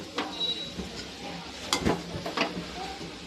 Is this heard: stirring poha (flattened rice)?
yes